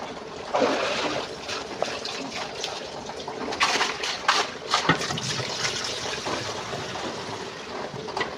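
Clean well water runs and trickles nearby in a continuous splashing stream, swelling briefly louder partway through.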